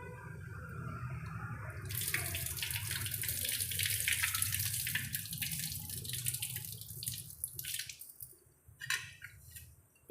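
Water is poured off a pot of soaked rice in a close, splashing stream that runs for several seconds and then tapers into irregular trickles and drips.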